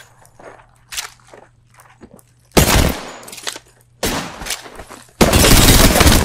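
Gunfire in an Apex Legends 1v1 match, loud bursts of rapid shots arriving in three separate volleys between softer clicks and footsteps, with no talking.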